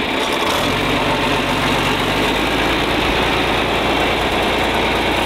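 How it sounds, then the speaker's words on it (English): A kids' tractor engine runs steadily nearby, a loud, rough, continuous drone with heavy low rumble and vibration, holding even throughout with no talk over it. "I'm gonna take this tractor to the mud pit where you got stuck"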